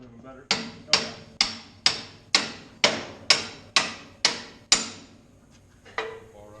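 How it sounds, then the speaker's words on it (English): A hammer strikes metal during a vehicle rear axle repair, about ten sharp ringing blows in a steady rhythm, close and loud, followed by a lighter tap. "grab a hammer"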